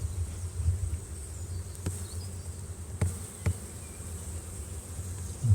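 Honey bees buzz around an open overwintered hive during inspection, a steady low drone close by with a few faint knocks and clicks.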